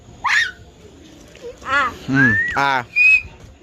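Someone attempts to whistle, producing a few short breathy pitched squeaks and rising tones in separate bursts, mixed with voiced attempts and nearby talk.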